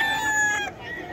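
White Kelso gamefowl rooster crowing at a poultry market in Bocaue, a single close, loud, harsh cock-a-doodle-doo that cuts off sharply after about half a second.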